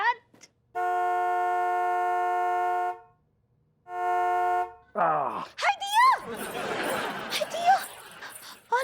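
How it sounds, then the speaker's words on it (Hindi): A car horn blares in two long sustained blasts, loud and close, followed by people laughing and talking. "इतना जोर जोर से हॉर्न कौन बजा रहा है?"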